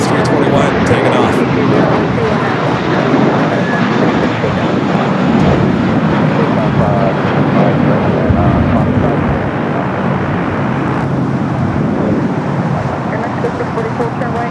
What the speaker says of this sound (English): Volaris A321 taking off